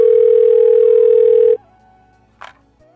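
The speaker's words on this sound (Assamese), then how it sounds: "সেই বুলি মই তাইলৈ এটা ফোন কৰিলোঁ।" A telephone ringing tone sounds loud and steady for about a second and a half, then stops abruptly, followed by a quiet line and a brief faint click.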